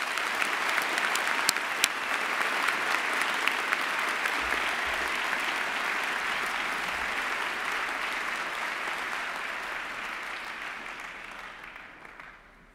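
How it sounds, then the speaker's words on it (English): Sustained applause from a postgraduate ceremony audience for the graduating chemistry class, a dense even wash of clapping held for several seconds, then thinning and fading out at the end. "Please join me in a round of applause to the graduating class"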